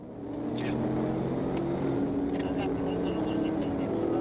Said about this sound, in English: He accelerating. That acceleration is crazy.